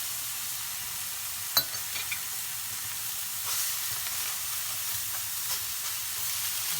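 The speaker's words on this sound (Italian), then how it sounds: "Lasciamo rosolare bene da un lato." Beef fillet searing in a pan, a steady, moderately loud sizzle with faint utensil clicks and no voices.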